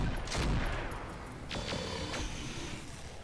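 Gunfire in the tactical shooter game Roguepoint: a muffled burst of shots with a short rumbling tail, followed by a few sharper, fainter reports, all fairly distant under steady background noise.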